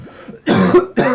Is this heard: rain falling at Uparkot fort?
no